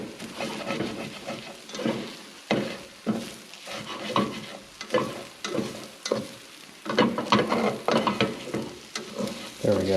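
Rice fries in a pan with loud, rhythmic bursts of sizzling and scraping that swell and fade every second or so, close and busy, with no speech.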